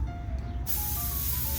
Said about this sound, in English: I'm going to begin by draining my wet tank.